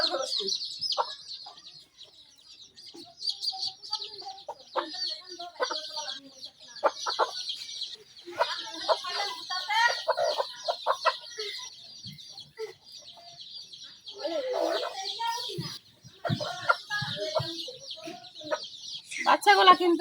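Two farm hens cluck softly among their newly hatched chicks, whose thin high cheeps run nearly nonstop throughout, with occasional low clucks and faint background sounds.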